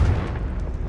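A Confringo blasting spell bursts in Hogwarts Legacy, a deep booming explosion that fills the clip with dense low rumble and stays loud throughout.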